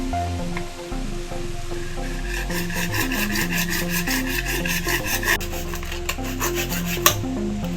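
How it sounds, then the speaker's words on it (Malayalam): A piece is cut for a homemade fishing rod holder, giving repeated rhythmic rasping strokes at close range, some strokes pitched and tonal, with a sharp knock near the end. "അപ്പോൾ ആദ്യം നമുക്ക് ഈ പീസ് ഒന്ന് കട്ട് ചെയ്തെടുക്കാം."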